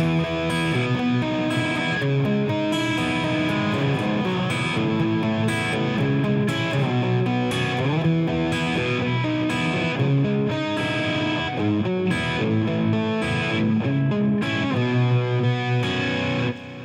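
A distorted electric guitar chugs through a steady chord rhythm, loud and continuous, with driving repeated strums and no voices.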